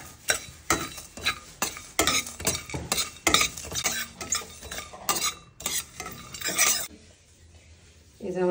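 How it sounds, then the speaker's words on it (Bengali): Whole spices such as coriander seed, mace, two kinds of cardamom, cinnamon and cloves are stirred dry in a pan, making rhythmic rattling scrapes roughly every half second before going quiet near the end. "এগুলোকে ভালো করে নাড়াচাড়া করে নিয়ে আমি করে নেব গুঁড়ো।"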